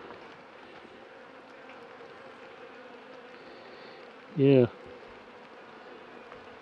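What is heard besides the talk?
honeybees flying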